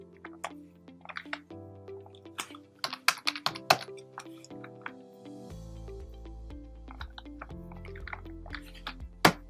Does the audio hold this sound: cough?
no